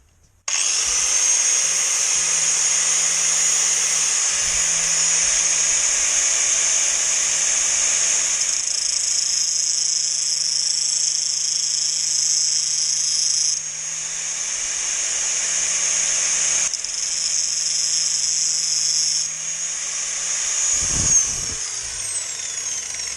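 A power drill fitted with a bolt-on attachment runs steadily and loudly for over twenty seconds, its high whine holding with slight shifts in pitch and load, close by with no talking.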